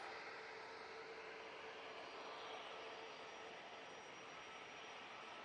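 An ATR 72 turboprop arrives at Manchester Airport, a faint, distant, steady engine drone with broad airy noise and a thin sustained tone, no voices.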